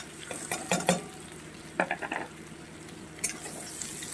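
Fried potato is stirred into shrimp and onion frying in a pan: bursts of clattering utensil scrapes against the pan come in clusters over a low, continuous sizzle.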